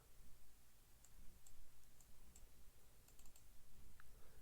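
A computer mouse clicks faintly several times at irregular intervals while game mods are being installed, soft and close against quiet room noise.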